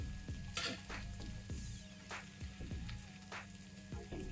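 Spices such as turmeric, chili powder and coriander powder being mixed into mushroom curry in a pan, with repeated spoon scrapes and clinks against the pan over a soft, steady sizzle.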